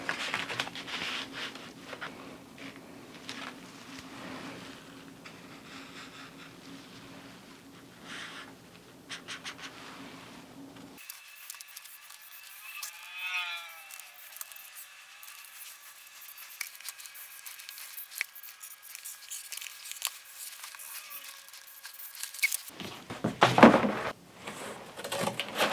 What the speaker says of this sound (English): and then I will cut it the cardstock.